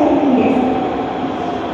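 An Osaka Metro Sakaisuji Line subway train arriving at Nippombashi Station platform 1 rumbles loudly with a steady low roar and a faint whine, the sound holding constant as it moves along the platform.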